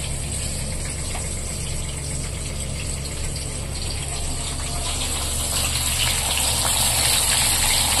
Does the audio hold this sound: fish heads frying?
yes